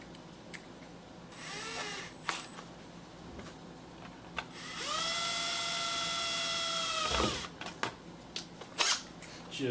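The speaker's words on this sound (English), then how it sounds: "So about the only thing I can do right now is drill the LED hole." An electric drill bores an LED hole into a plastic console case. A high whine rises and holds for a few seconds, then stops, over low steady room noise.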